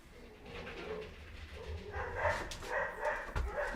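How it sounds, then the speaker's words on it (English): Dogs bark at a moderate distance, several scattered barks and yelps that grow busier toward the end. "there's another dog"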